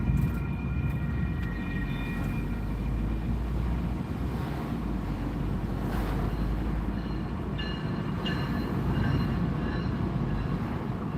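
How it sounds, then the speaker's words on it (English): A train passes along the track in an outdoor city street setting, a loud continuous rumble of wheels and cars with faint high metallic squeals, steady throughout with no talk. "I hear a train coming down the track."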